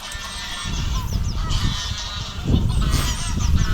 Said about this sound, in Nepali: त्यहाँ हाँस फाइट भइरहेको